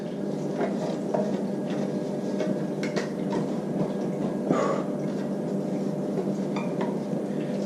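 Plastic juicer lid and chute being handled and twisted back together, a series of small clicks, taps and knocks close by with quiet handling noise in between.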